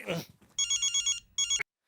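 A telephone rings with rapid electronic trills in two bursts, close and clear, cut off abruptly after the second.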